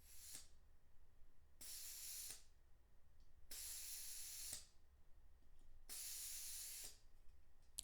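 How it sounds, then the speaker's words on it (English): Gas is filled into a Tokyo Marui Hi-Capa airsoft magazine in three separate bursts. Each is a steady, close, loud spray-hiss lasting about a second, with short gaps of quiet between them. "we can gas up the magazine to check that we have an airtight seal"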